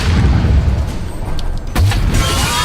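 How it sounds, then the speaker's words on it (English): Teapot cannon in the video game Alice: Madness Returns fires with a loud, deep boom, followed about a second later by a second heavy blast, both over a busy game background. "that teapot cannon on these things"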